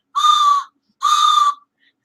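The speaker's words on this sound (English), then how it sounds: "she got me one of these nice little train whistles" Two bright blasts from a small toy train whistle, each about half a second long with a short gap between, close and clear against silence.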